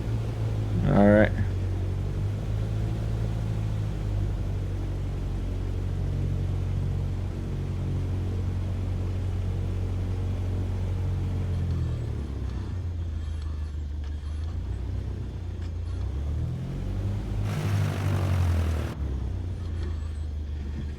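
Cessna 152 single propeller engine in MS Flight Simulator 2024 at takeoff on a runway, a steady loud low drone with harmonics that rise and shift as power builds, with a brief noise burst near the end and a voice talking over it.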